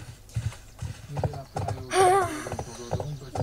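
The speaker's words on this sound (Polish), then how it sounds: "Bardzo mi się podoba to tupanie tego konia, ale to jest naprawdę boskie." Horse hooves clop in a steady rhythm in a Barbie horse-riding video game, close and distinct, with a brief whinny partway through.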